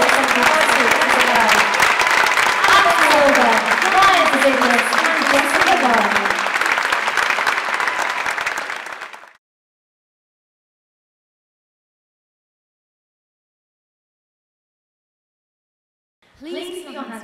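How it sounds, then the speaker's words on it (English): Audience applause for a band fills a concert hall at Cadogan Hall: dense, sustained clapping from a large crowd for about nine seconds, then it cuts to silence before a brief burst of sound returns near the end. "Give them one more big round of applause."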